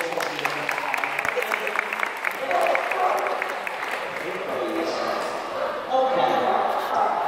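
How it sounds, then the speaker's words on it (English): Crowd at a seal and sea lion show claps in scattered, uneven applause that swells in waves, with voices and other show sounds mixed in around it. "give both a nice big round of applause"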